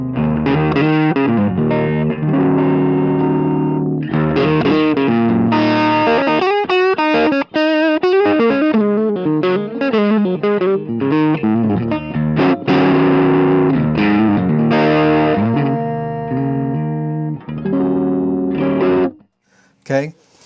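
An electric guitar through a Tube Screamer-style overdrive pedal plays crunchy, overdriven chords and riffs loudly for about twenty seconds, with no voices, ending in a brief pause.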